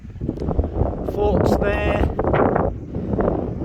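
Strong wind gusting across the top of an abandoned fort, roaring steadily over the microphone while someone talks over it throughout.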